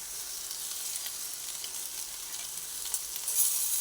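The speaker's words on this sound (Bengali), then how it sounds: "আদা রসুন দিয়ে দিলাম দুটোই ভেজে নিচ্ছি" Ginger and garlic frying in hot oil, giving a soft, continuous hiss of sizzling at moderate distance with faint stirring and a slight swell near the end.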